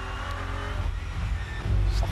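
A race car roars past during the 24 Hours of Nürburgring, its engine swelling from a broad mid-level drone into a louder low rumble near the end, with no voices over it.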